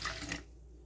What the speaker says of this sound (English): I'm gonna pour some lukewarm water, like 3 ounces of lukewarm water on it